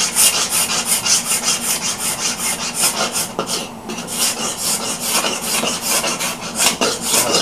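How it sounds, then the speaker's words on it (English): Steady, rhythmic rasping scrapes of a tool being pushed across bare wood to strip off old glue, loud and close, with no talk. "we're going to scrape that off so we get a good bond"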